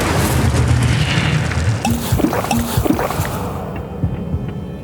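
Incendio fire spell cast in the Hogwarts Legacy video game, a loud whooshing burst of magical fire over a busy, dense game soundscape, with brief crackling flares following.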